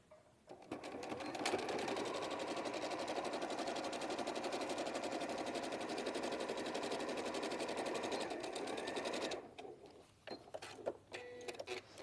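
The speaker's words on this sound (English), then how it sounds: "So I'm just going to sew that together" A sewing machine stitches a seam in one steady, fast run of needle clatter lasting about eight seconds, then stops, leaving a few faint handling sounds.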